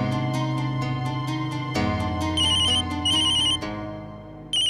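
A phone ringtone plays in a home, a rhythmic repeating melody of bright tones, close and clear with no one talking.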